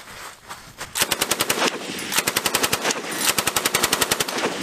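A .50 caliber heavy machine gun firing during a military exercise at Camp Fuji, loud rapid bursts of evenly spaced shots, several long strings separated by brief pauses, close and dominant.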